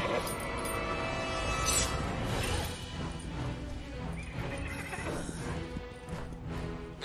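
A horse whinnies loudly amid a busy, layered mix in a Czech-dubbed adventure film, with hooves clattering and a crash, all fairly close and continuous.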